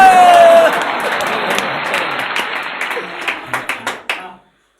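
Audience clapping at a Hindi kavi sammelan (poetry gathering) on Prakram Diwas: a dense, loud round of applause that thins into a few scattered claps before stopping abruptly.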